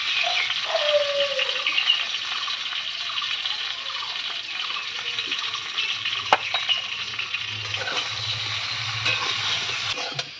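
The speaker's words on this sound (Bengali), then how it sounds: "লবণ আর হলুদ দিয়ে নাড়াচাড়া করে নিচ্ছি" Potatoes with salt and turmeric stirred in a pan, giving a steady close sizzle broken by scraping strokes of a spoon and one sharp knock, with no talking.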